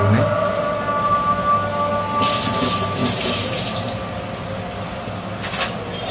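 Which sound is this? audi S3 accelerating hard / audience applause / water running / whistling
water running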